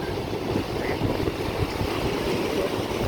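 Steady roar of big ocean waves breaking and surging at a river mouth on the sea coast, with wind buffeting the microphone throughout and no voices.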